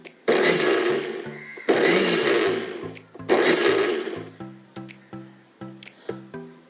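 A kitchen mixer grinder whirs in short pulsed bursts while blending homemade mayonnaise, three loud runs followed by quicker, fainter taps and spins, with no talking.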